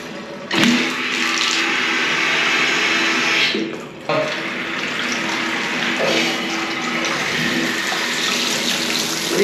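Water rushing through the old plumbing of a 125-year-old Victorian house once the supply is turned on, a steady loud hiss with a couple of knocks and dips partway through.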